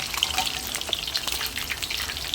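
Fish sizzling as it fries in a pan of hot oil for a Thai fish curry, a steady crackling hiss with small pops, close and fairly quiet, no voices.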